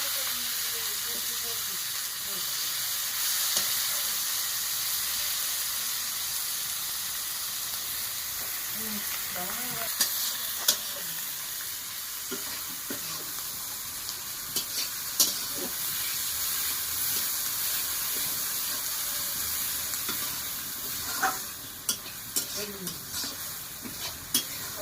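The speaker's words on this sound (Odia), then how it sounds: "ତ ବର୍ତ୍ତମାନ ଛାଡ଼ାଗଲା ପିଆଜ।" Sliced onions hit hot oil for chicken curry, giving a steady broad sizzle with occasional sharp clicks and spatters from stirring, continuing throughout at moderate loudness.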